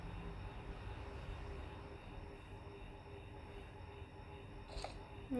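An airplane engine in a video game, a steady droning hum that runs throughout under the game's other sounds, with a brief sharper noise near the end.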